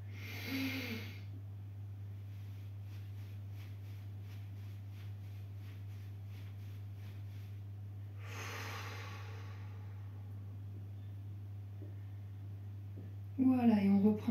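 Forceful exhaled breaths at the start and again near the middle, each a short rushing burst, over a steady low hum, with a faint voice-like sound rising at the very end during a guided relaxation breathing exercise.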